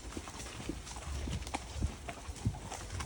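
Hooves of a traditional family horse clip-clop on a hack, several uneven strikes close by over a steady outdoor background, with no voices.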